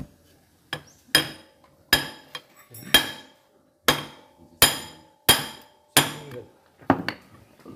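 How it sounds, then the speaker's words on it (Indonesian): A hammer drives a GL socket pipe fitting into place with about nine sharp, ringing metallic blows at an uneven pace. The blows are close and loud, with brief quiet gaps between them. "Kemudian kita masukkan saja ya, kemudian kita palu."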